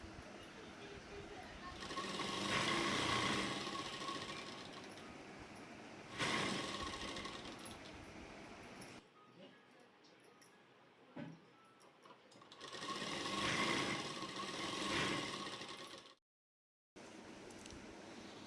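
A sewing machine stitches folded fabric on a salwar in two long, steady runs of close, humming needle clatter, separated by a quieter pause with light handling noises.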